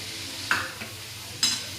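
Cauliflower for a vegetable dish sizzles softly in a pan, with two brief scraping stirs against the metal standing out over the low frying hiss.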